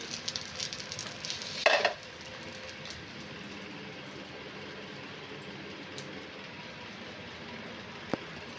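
Food frying in a pan gives a soft, steady sizzle, with a brief louder burst of crackle and a utensil clatter early on, then an even low hiss to the end.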